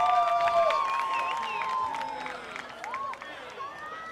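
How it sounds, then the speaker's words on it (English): Geelong-Korea baseball fans cheer in the stands after a home run against the Brisbane Bandits, a steady crowd roar with whistles and shouts throughout. "And finally, the GK fans have something to cheer about."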